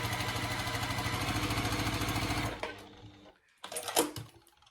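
Sewing machine stitching a quilt block, a steady close motor whir with fast needle chatter for about two and a half seconds, then stopping, followed by faint handling and rustling of fabric.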